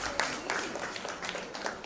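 Audience applause at a book launch in Mumbai, a dense steady patter of many hands clapping that holds for a couple of seconds.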